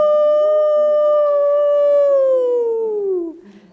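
A voice imitates a coyote's howl with one long, loud, sustained tone that holds steady and then slides downward before breaking off.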